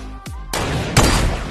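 Two or three sharp, loud gunshots crack close by in Fortnite's battle royale, the last one with a heavier boom and a ringing tail.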